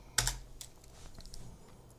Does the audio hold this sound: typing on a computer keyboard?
yes